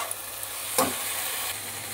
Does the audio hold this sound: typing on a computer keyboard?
no